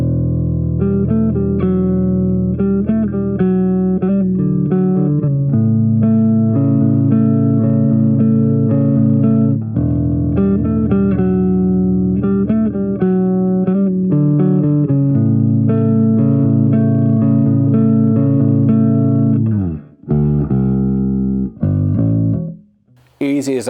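Bass guitar played through the ML Sound Lab Amped Bass amp-simulation plugin, a sustained run of clear, slightly driven notes and riffs for about twenty seconds, ending with a few isolated notes and a brief cutoff.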